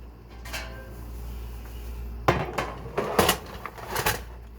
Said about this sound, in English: So let me get a pan. Just a cookie pan.